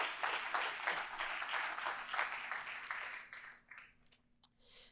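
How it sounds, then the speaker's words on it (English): Audience applause at a public safety week event, a steady burst of clapping from an indoor crowd that fades out over the last second with a few scattered claps. "So give them a round of applause."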